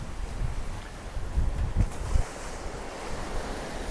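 Steady wind and breaking ocean waves rush past a sailboat making good speed in about 15 knots of breeze on an open-ocean passage between Tahuata and Raraka, with gusty wind buffeting the microphone and a few louder wave surges.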